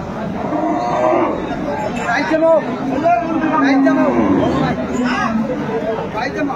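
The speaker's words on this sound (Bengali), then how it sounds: "গাভী আর বাছুর আমরা দেখছিলাম এখানে, যে সুন্দর মানের গাভী এবং বাছুর।" A cow and calf moo at a busy cattle market in Aftabganj, Dinajpur, giving several drawn-out calls close by over constant crowd chatter and people talking.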